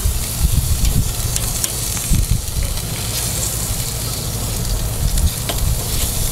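BBQ chicken sizzles loudly over a 22-inch Weber kettle grill as it is flipped, a close, continuous hiss and crackle with low thumps and scraping from the turning.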